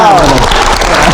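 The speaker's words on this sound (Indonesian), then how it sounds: "Kita kasih tepuk tangan dulu." A studio audience at a Metro TV show claps in a loud, dense, steady burst, with a voice heard faintly under it.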